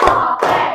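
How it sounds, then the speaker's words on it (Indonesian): Hand clapping from a classroom group doing a rhythmic spirit clap, two close, loud bursts of claps about a third of a second apart filling the short moment. "Sebelum diskusi, kita tepuk semangat."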